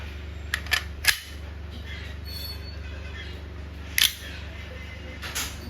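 A KWC 75 Tactical full-metal CO2 airgun pistol firing 4.5 mm BBs, heard as a few sharp snapping shots, some close together and one later, over a steady low background hum.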